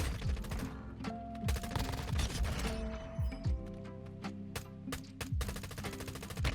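Rapid automatic gunfire in the Warzone Mobile shooter game, dense bursts of loud shots fired nearly continuously with brief gaps, close and dominant throughout.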